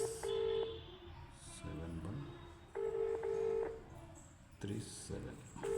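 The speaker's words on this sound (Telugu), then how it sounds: "ఈ లోపల నంబర్ టైప్ చేద్దాం," Phone keypad tones beep in short pulses while a number is typed, interleaved with a voice speaking in the background.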